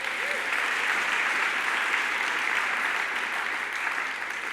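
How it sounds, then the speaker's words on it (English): Audience applause for a guest at a church talk, steady dense clapping throughout, loud and even, filling the room with no break and no clear speech over it. "Would you give a round of applause to Josh?"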